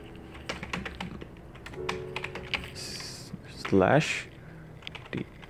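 Typing on a computer keyboard during a local WordPress setup, with scattered close key taps and a firmer press, while someone talks over parts of it.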